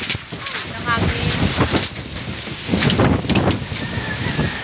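Strong typhoon wind roars and buffets the microphone in the Philippines, a loud, continuous gusty rush with surging bursts throughout, while a voice talks faintly underneath.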